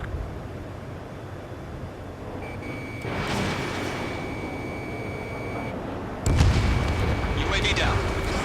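An enemy UAV is shot down in the Ace Combat 7 flight game, a sudden loud explosive boom hitting late in the clip over steady jet engine roar, with electronic lock-on tones and a radio voice earlier.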